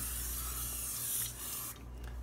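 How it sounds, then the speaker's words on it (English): Cooking spray hissing onto a pan in a home kitchen, one close continuous spray burst that stops abruptly near the end, with no talk. "let me see if I can put some more spray up in here"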